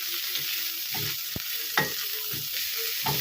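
Garlic and onion sizzle in a small amount of oil in a pan, a moderate crackling hiss under intermittent scrapes and taps of a spoon stirring, with one sharp clack partway through.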